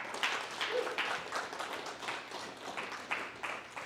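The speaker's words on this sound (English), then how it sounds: "May we have a round of applause for the divine feminine in this room" A room of people gives a round of applause, the clapping loose and uneven with distinct claps, rising and falling over a few seconds.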